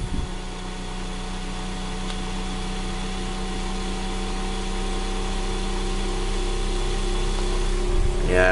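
A single-phase generator spins up, a steady humming whine with fixed tonal lines that slowly grows louder over several seconds before a brief shift near the end.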